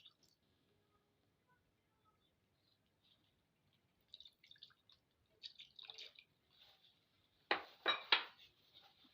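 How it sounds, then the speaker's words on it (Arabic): Two lemons squeezed over salted fish being marinated with green peppers: quiet, close drips and small splashes of juice with faint kitchen clinks, building to a few louder wet bursts near the end. "راح أضيف الملح وأضيف عصير ليمونتين"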